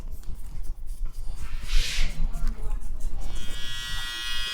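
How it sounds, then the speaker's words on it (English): An electric hair trimmer buzzes close by as a barber cuts the first guideline of a drop fade, a steady whine with brief brighter bursts and shifting pitch over low room noise. "I'm gonna start my first guideline with the trimmer"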